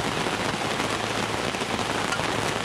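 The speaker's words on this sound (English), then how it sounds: "And the rain is nice. It's cooling the air down, too." Rain comes down hard beyond a screened porch in the countryside, a constant close wash of drops hitting surfaces with no voices over it.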